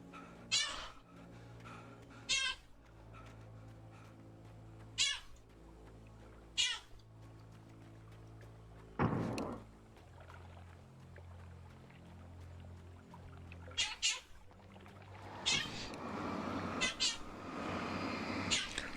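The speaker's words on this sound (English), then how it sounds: "He's decided we do need meows." Several cat meows used as a sound effect for a Night Springs video game scene, repeating at irregular intervals over a steady low background hum, with a denser burst of sound near the end.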